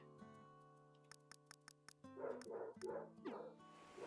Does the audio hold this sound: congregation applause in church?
no